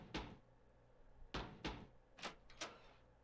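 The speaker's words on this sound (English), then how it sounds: "This is the door animation." A door-opening animation in a Resident Evil-inspired indie JRPG game: a sequence of sharp wooden knocks and thuds, one early hit, then a pair, then a quick cluster of three, crisp and close over quiet background.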